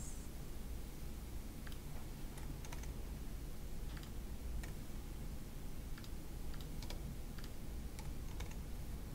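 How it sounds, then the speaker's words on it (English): Someone types on a computer keyboard, with soft, scattered keystrokes over a steady background hiss, faint and close with no talking. "Just type something else."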